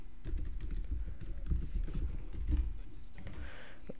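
Rapid, close typing on a computer keyboard, with crisp irregular key clicks in quick bursts while code is entered, no voices.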